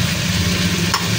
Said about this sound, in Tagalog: ipiprito-prito natin yung ating sukiyaki pork